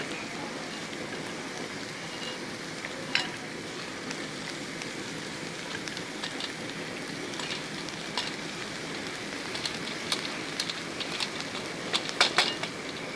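Cooked rice and capsicum stir-fried in a pan for chicken fried rice, a steady close sizzle with scattered spatula scrapes and clinks that grow busier toward the end.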